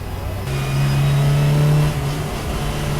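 A Volkswagen Fun Cup race car engine revs up and holds a steady, droning pitch, loud and close from inside the car, then eases slightly before climbing again.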